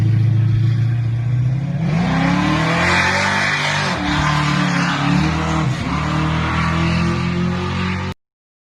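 A Ford Torino fitted with a 427 engine accelerates hard, a loud close engine roar climbing through rising revs with gear changes, then cutting off abruptly at the end, no talking.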